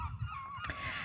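Birds calling outdoors, with harsh, goose-like honking cries that carry steadily through the moment and peak in one sharp call near the middle.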